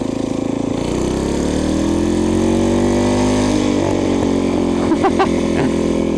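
A Briggs & Stratton 5 HP small engine powers a homemade chopper motorcycle, its steady, loud, vibrating drone rising and falling in pitch as the rider throttles, with a few sharp revs near the end.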